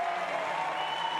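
Crowd applause at the Rio 2016 Paralympic wheelchair tennis men's singles semifinal after the match ends, a brief steady wash of clapping carried under a faint tonal hum.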